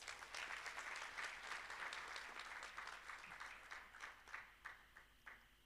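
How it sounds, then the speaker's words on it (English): Audience applause at a Rand Water live-streamed event: a sustained wash of many hands clapping for several seconds, then thinning into scattered individual claps as it dies away. "May we give him a round of applause"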